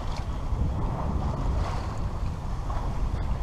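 A sailing boat runs under sail in the Mediterranean between Cap d'Agde and Saintes-Maries, with steady wind buffeting and rushing waves against the hull, a constant loud wash of noise close to the microphone.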